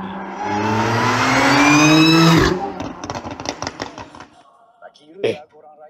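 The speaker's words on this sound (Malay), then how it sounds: "saya bawa keluar kereta" A car is driven out, its engine revving loudly and rising in pitch for a couple of seconds before a sharp squeal, then tapering into scattered knocks and clicks while people talk.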